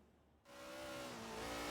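A Lola T70 classic race car in Forza Horizon 3 fires into a loud, sustained engine drone after a brief near-silence, its pitch climbing steadily as the car accelerates away.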